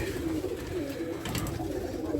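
Racing pigeons coo steadily close by in a loft, a continuous low murmuring layered with soft rustling and no voices.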